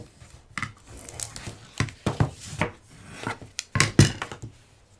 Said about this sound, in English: I'm just going to go around the lid to make sure everything is nice and stuck